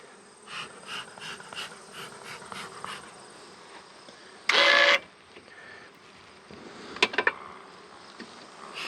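Honeybees buzz around strong hives in a beeyard, a faint steady drone with soft pulsing hums and a loud brief mechanical burst midway.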